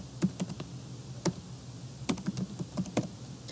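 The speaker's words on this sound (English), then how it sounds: "I want you to type the word bibliography" Fingers tap out a short word on a computer keyboard, giving a quick, uneven run of light close key clicks over a faint steady background hum.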